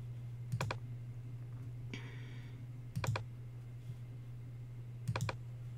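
A computer mouse gives three pairs of crisp, quick double clicks spaced about two seconds apart while code is copied, faint against a steady low electrical hum.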